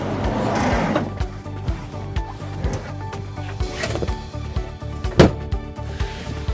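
A rock and roll bed in a VW Transporter is pulled out, giving a run of rhythmic mechanical clicks and ratcheting knocks with a few sharper clunks, close and fairly loud.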